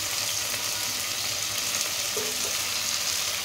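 Peas, capsicum and beans frying in a pan, a steady bright sizzle of oil crackling continuously at close range, with faint stirring underneath and no talking.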